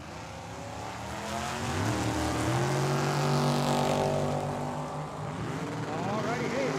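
Drag racing cars, one of them a Camaro, launch down the strip at a dragway with a swelling, sweeping engine roar that rises and shifts in pitch, heard from a distance, with a voice talking over it.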